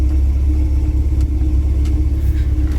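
A turbocharged Chrysler LeBaron GTC engine runs steadily, a loud, close, constant low rumble with a faint hum and no talking.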